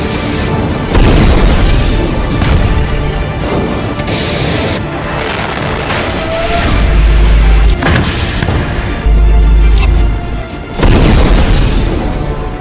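Heavy explosions from a Hezbollah attack on Israeli tanks and weapons boom repeatedly, loud deep blasts and crashes following one another over a rough, noisy background.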